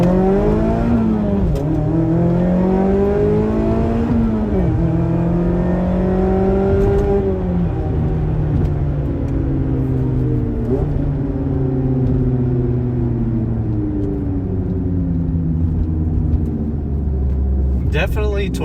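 A Mazda Miata ND2 fitted with an Edelbrock supercharger pulls hard from a dig, its engine note sweeping upward through several gears with rising and falling harmonics, steady and fairly loud from inside the cabin.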